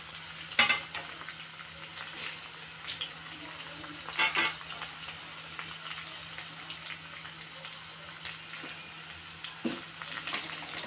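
Green chillies frying in hot oil for a tempering for tomato dal, a steady close sizzle and crackle with a few sharper spatters and stirring clicks, no voices.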